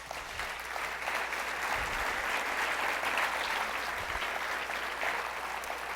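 A church congregation claps together during a sermon, a dense, steady wash of hand claps filling the whole stretch at an even level with no voices standing out.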